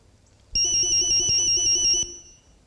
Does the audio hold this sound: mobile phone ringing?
yes